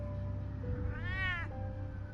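A cat in the Batman Telltale video game gives a single clear, drawn-out meow over a faint steady background hum, with no talking.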